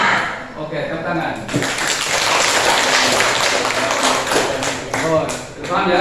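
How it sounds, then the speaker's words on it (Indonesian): Students in a classroom burst into a few seconds of applause, a dense sustained patter of many hands clapping close by, mixed with voices. "Oke, tepuk tangan."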